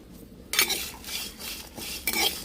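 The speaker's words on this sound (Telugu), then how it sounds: "మాడకుండా లైట్గా ఫ్రై చేద్దాం" Chicken lightly frying in a pan, with a spatula scraping and stirring in bursts over a steady low hiss, close and fairly loud, with no talk.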